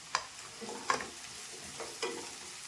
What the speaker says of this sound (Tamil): பச்சை மிளகாயும் இப்படி போட்டுக்கலாம். போட்டு வதக்கலாம்.